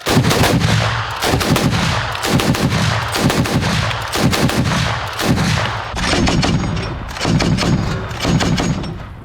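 Loud, heavy bursts of rapid automatic fire from a Czech anti-aircraft gun on a Toyota repeat in rhythmic volleys of about one second each, with booming thuds and no break between bursts.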